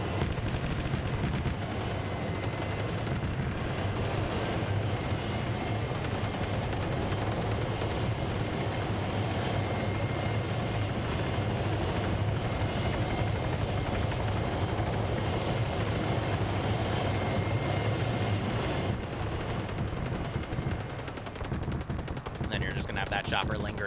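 A helicopter flies in a video game. A dense rotor and engine roar runs steadily for the whole stretch, mixed with rattling gunfire-like bursts and faint talk underneath.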